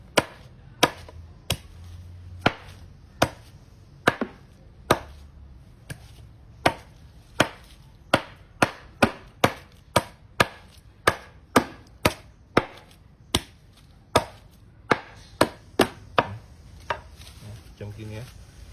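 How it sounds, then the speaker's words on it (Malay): A blade chops through coconut husk in about thirty sharp, dry strikes, spaced unevenly and quickening toward the middle, each a crisp close thwack against a quiet background. "Sabut kelapa kita cincang lah."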